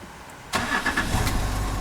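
A Land Rover with a charging fault cranks briefly and catches, then settles straight into a steady running idle heard close up, with no talk.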